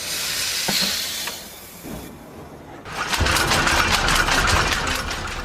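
Steam power in an early industrial mill hisses loudly and steadily, a short broadband burst surging in after a brief quieter stretch, close and unaccompanied by speech.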